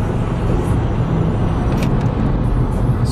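A car rolls by close up with a low, steady rumble of engine and tire noise, the sound staying broad and even for a few seconds without any voices.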